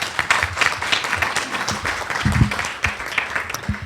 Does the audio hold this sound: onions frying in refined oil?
no